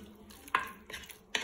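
Peppers are stirred in a Cookeo multicooker, with a few brief scraping strokes of a utensil against the pot over a faint sizzle, quiet and close.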